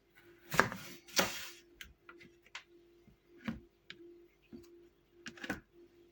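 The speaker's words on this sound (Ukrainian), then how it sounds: "Тут беремо огірки, розрізаємо так, навпіл." A knife chops through cucumbers on a board, halving them for pickling: about eight crisp, separate cuts at an uneven pace, the first two loudest, in a quiet room.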